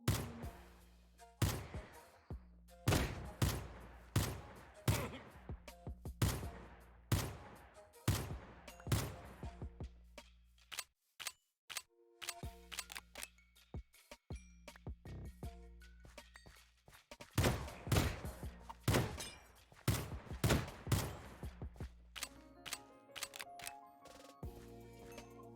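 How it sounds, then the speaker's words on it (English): Rifle gunfire in Minecraft, with sharp repeated shots arriving in quick bursts and scattered single cracks, fairly close and steady across the stretch with brief pauses between volleys. "This rifle's pretty awesome."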